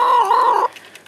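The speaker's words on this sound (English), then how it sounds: "Here are all the chickens thinking they're getting something." Chickens in a backyard coop give a loud, close burst of clucking and squawking that runs for well under a second, then drops away to faint background noise.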